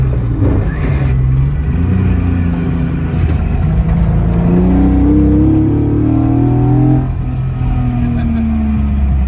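A BMW E36 engine with individual throttle bodies revs hard to 6000 rpm and climbs in pitch, roaring loud and close, with a voice speaking briefly over the engine noise.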